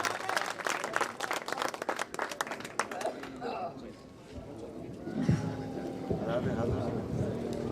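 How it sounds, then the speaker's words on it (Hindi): Audience applause welcoming a poet at an All India mushaira in Sangareddy. A burst of crowd clapping lasts about three seconds, then gives way to a speaking voice over room hum. "अब जोरदार तालियों से इस्तकबाल फरमाएं।"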